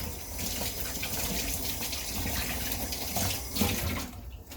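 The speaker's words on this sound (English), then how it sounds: "Wash my hands." Tap water runs steadily into a kitchen sink beside a stove as hands are washed, a continuous close splashing rush that cuts off at the end.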